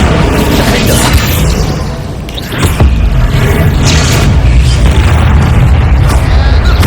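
An Incendio fire spell cast in Hogwarts Legacy fills the clip with a loud, dense roar, marked by a sharper burst near the middle and a steady rumbling blaze around it.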